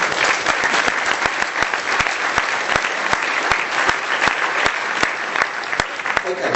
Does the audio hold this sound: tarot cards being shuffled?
no